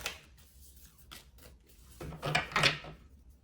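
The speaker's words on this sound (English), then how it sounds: "we're gonna get a few more shuffles" A deck of tarot cards is shuffled by hand, giving close, papery rustles and soft scraping bursts. The sound builds to a louder flurry near the end, with no talking.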